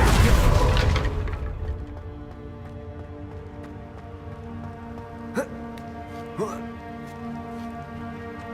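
A Confringo fire spell in Hogwarts Legacy: a loud burst of fiery explosion opens, then fades into a lingering crackling tail with two smaller impact pops later, under game ambience and music.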